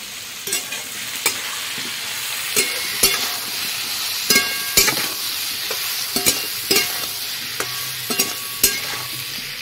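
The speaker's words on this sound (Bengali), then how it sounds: "সুন্দরভাবে পেঁপে আলুটা ভেজে নিয়েছি" Papaya and potato pieces fry in hot oil with turmeric and salt, a steady sizzle broken by repeated sharp scrapes and knocks of a spatula stirring the pan, close up and without talk.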